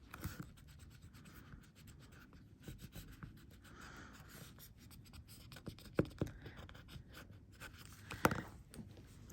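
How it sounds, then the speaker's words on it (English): A sturdy pencil traces over metal tape laid on aluminium foil, giving a soft, continuous scratchy rubbing close to the mic, with a few sharper ticks and scrapes along the way. "going around everything now again with the big pencil"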